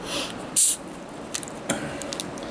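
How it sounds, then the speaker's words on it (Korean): Vyfit lemon sparkling drink from Kwangdong Pharmaceutical fizzes quietly, a soft crackle of bubbles with a brief sharp spray near the start and light ticks and pops after, no talk. "탄산은 꽤 올라오죠?"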